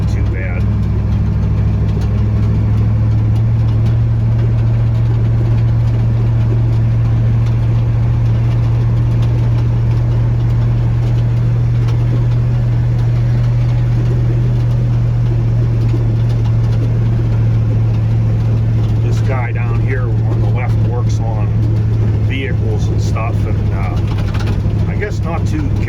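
A Ford F600 truck rolls slowly in low axle along a bumpy rural road during a corn harvest, giving a steady, loud low engine drone throughout with some faint rattles late on.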